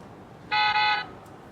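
A short electronic car horn beep from a Monopoly Ultimate Banking game unit, two quick toots run together, bright and close, played from a small toy speaker.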